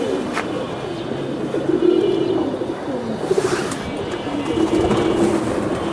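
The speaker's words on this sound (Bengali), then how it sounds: "ওটা মাদি কবুতর" Pigeons coo in soft, repeated low phrases, a female among Giribaz pigeons; the calls recur steadily and fairly close over a busy background.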